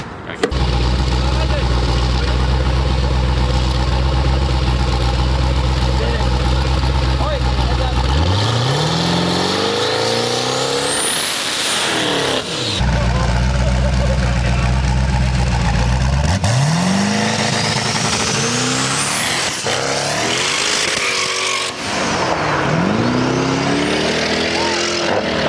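A street-racing car engine revs and accelerates repeatedly, rising in pitch then cutting off, with loud mechanical roar and a few voices in the background.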